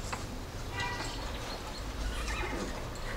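A horse whinnies with a rising, shaky neigh, mixed with hoof clatter and a steady low rumble of background noise.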